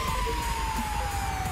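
A police car siren wails steadily in the GTA 5 Online video game during a three-star wanted-level chase, a loud sweeping tone running through the whole short stretch over a low rumble, with no talking.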